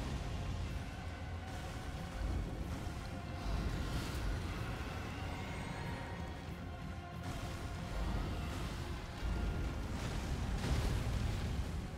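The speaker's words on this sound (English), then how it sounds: "Oh yeah, you're doing the explosion." Rumbling explosion blasts in Elden Ring: Shadow of the Erdtree, a sustained loud roar with a few heavier swells of booming noise throughout, no talk.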